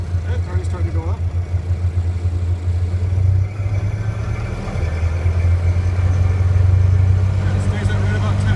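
A Ford Model A engine runs steadily with a deep, low hum, then swells slightly in pitch and loudness as the revs are raised, and a voice is heard speaking over it.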